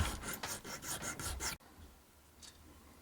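A hand file rasps back and forth across a small metal rod clamped in a desk vise, several quick close strokes lasting a second and a half before stopping into near quiet.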